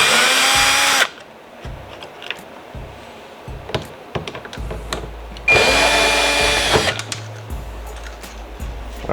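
A power drill backs a Phillips head screw out of a Jeep Renegade door panel, with two loud, close whirring bursts, one at the start and one midway, and quieter handling clatter between them.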